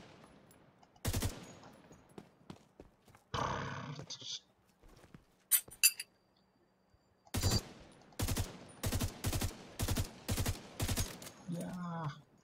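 Gunfire from a weapon in The Division 2: loud, close three-round bursts repeat at an even rhythm, with a brief voice and other scattered game sounds in between.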